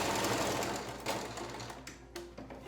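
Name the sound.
sewing machine stitching a fabric face mask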